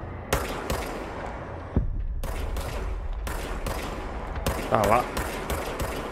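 Bursts of automatic gunfire from the video game Control come in repeated short volleys, loud and close, with a player speaking briefly between shots.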